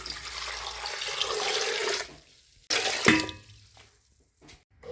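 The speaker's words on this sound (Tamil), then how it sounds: "இப்போ வந்து தண்ணி ஊற்றிக்கலாம்" Water poured from a tap or jug onto cut beetroot, carrot and potato pieces for a salad, a steady splashing gush for about two seconds, a brief second pour, then quiet; no talking.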